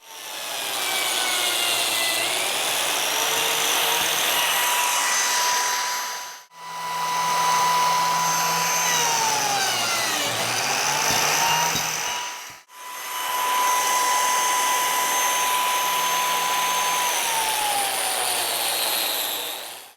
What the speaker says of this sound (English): These lines are where I'm going to plunge the biscuits, and I'm going to cut mating slots in the mid-span itself.